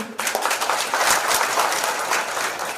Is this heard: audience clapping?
yes